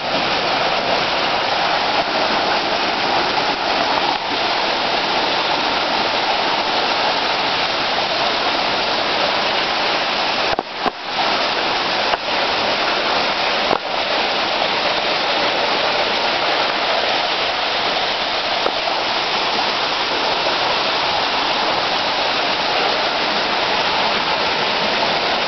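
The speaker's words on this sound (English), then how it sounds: "All this water." Continuous loud rush of falling water, a waterfall or fast stream, steady and broadband throughout with a few brief clicks near the middle and no talking.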